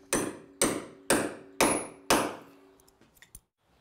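Five evenly spaced, loud hammer blows drive large nails into the bow of a wooden boat hull, each strike ringing briefly before a few faint knocks and a quiet tail.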